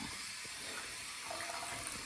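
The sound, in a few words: water tap running on low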